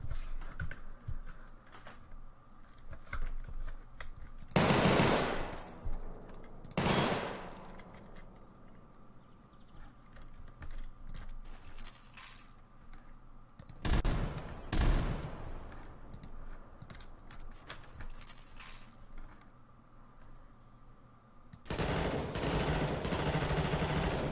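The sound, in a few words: gunfire from a rifle in video game Garry's Mod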